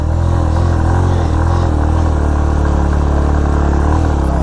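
A motorcycle engine labours uphill on a steep off-road track in the Phandar valley, carrying a family two-up, with a steady loud drone and mechanical clatter, no voices.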